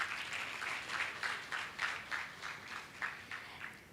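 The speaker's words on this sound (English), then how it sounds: "now we give them a round of applause as they leave the stage." Workshop audience clapping as presenters leave the stage at a mental health awareness event, a short burst of moderate applause with uneven pulses of hands, fairly close and without talk.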